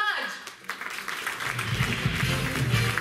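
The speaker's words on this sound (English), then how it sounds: "Come on, guys, a big round of applause for them." Applause at an awards ceremony for a winner named Prabhu Raj: a crowd's steady clapping builds after a moment and continues as a dense patter, with a voice speaking over the start.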